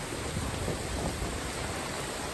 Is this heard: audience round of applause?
no